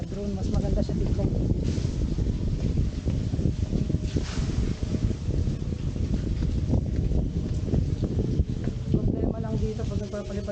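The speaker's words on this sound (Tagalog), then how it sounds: "Problema lang dito pag nagpapalipad tayo ng drone, malakas yung hangin." Strong wind buffets the microphone continuously at a hilltop overlook in Tagaytay City, a loud rumbling roar that barely lets up for the whole stretch.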